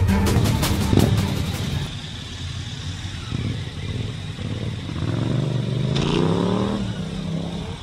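A motorbike out on a ride, its engine droning steadily with shifts in revs and wind rush, close and continuous from start to finish.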